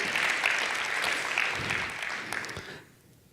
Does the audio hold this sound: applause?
yes